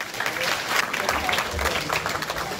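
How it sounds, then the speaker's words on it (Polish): Dense applause from an audience at an awards gala fills the clip, steady and continuous with a low murmur of crowd underneath. "Poprosimy o brawa."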